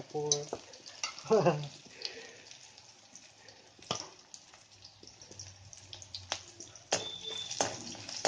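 Onions fry in a pan in a small kitchen, browning slightly, with a steady soft sizzle and intermittent stirring scrapes and clatters, a few louder bursts near the start and toward the end.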